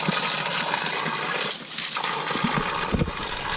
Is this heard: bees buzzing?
no